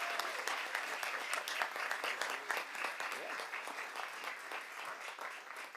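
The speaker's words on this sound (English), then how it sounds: "Please join me in a round of applause for these individuals for donating their time." An audience at a school board meeting applauds volunteers who gave their time to work with students, a steady round of many hands clapping that fills the room and tapers slightly toward the end.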